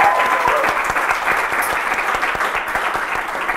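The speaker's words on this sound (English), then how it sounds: "Let's hear a big round of applause." A hotel audience at a live show at the Cavan Crystal Hotel applauds steadily for several seconds, a thick even wash of clapping with individual claps popping through, loud and close throughout.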